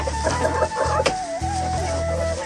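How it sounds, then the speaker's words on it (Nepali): Local chickens cluck in short bursts nearby, accompanied by a steady high-pitched whine in the background. "यहाँ चाहिँ लोकल कुखुरा छन् है"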